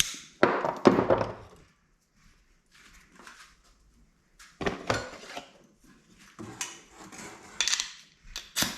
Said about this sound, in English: I'll just snip off the last little bit.